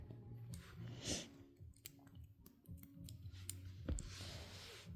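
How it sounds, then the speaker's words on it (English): Scissors cutting crochet yarn, a few quiet close snips and clicks, soft and brief, with faint handling noise around them. "and cut the yarn"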